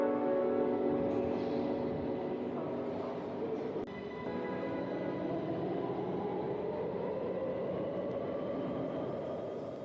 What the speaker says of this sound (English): Back on the train, and we're heading towards our next stop